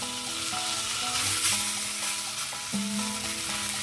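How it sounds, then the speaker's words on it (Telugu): Marinated fish shallow frying in a pan of oil, a steady close sizzle with stirring and utensil clinks, no voices. "అందువల్ల ఈ మ్యారినేట్ చేసి ఉంచుకున్న ఫిష్ని ఇలా పెట్టేస్తున్నాను"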